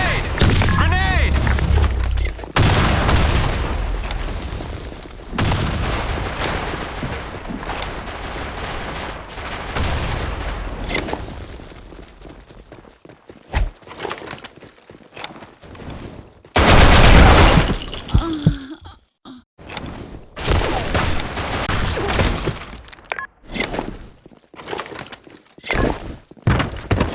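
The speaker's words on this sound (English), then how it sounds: "Fire in the hole! Grenade! Fire in the hole! Grenade! Grenade!" Repeated grenade blasts and bursts of automatic gunfire from the online shooter BlackShot, with loud booms and rattling fire; a game voice shouts callouts among the blasts.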